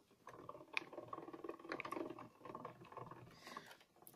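A die-cutting machine presses card through a die with its top plate, giving a soft, close series of grinding, ratcheting mechanical sounds over a few seconds, ending in a sharper bump; quiet and without talk.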